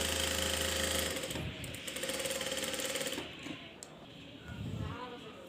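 A sewing machine stitches blouse pieces in a steady mechanical whir that gradually eases, with a voice speaking briefly over it near the end.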